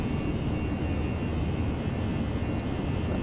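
Simulated Airbus 319 jet engines at full TOGA takeoff thrust in the X-Plane flight simulator, a steady broadband roar with low rumble that holds constant and loud throughout, no voices.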